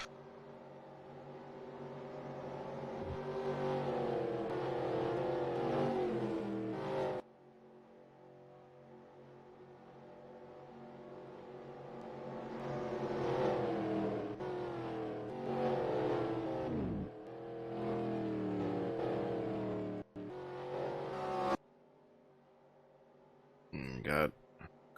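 Stock cars in a NASCAR Winston Cup racing video game at Michigan roar and rev with rising and falling engine tones, cutting out abruptly at times, under a commentator's voice.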